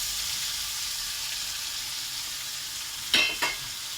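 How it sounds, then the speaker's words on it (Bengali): Shrimp with bitter gourd, onion and potato fries in hot oil, a steady close sizzle throughout, with two brief louder bursts of crackling and stirring near the end. "চিংড়ি মাছটা তেলে ছেড়ে দিয়ে হলো। তো আমি উচ্ছে, পেঁয়াজ, আলু একসঙ্গে দিয়ে দেওয়া হলো।"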